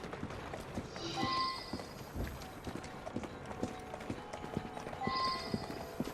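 Horse hooves clip-clop at a steady walking rhythm on a street in the Assassin's Creed Syndicate video game, close and fairly loud, with a couple of faint whinny-like tones and ambient game sounds around them.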